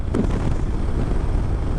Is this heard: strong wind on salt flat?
yes